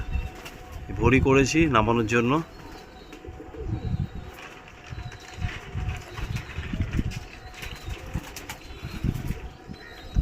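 Pigeons flutter down to land, their wings flapping in soft, broken bursts over a steady outdoor background. Someone talks near the start.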